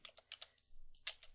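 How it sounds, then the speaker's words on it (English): A computer keyboard is typed on in quick, light keystrokes, clustered in two short bursts with a brief pause between them, close and quiet, entering a command at a terminal. "to check and see if we have SSH installed, type in sbin service"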